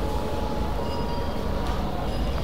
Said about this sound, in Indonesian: kereta udah mau berangkat lagi